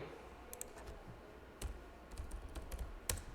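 Keys clicking on a computer keyboard in a short burst of typing, a few quick sharp taps spaced unevenly, close and fairly quiet with no talking.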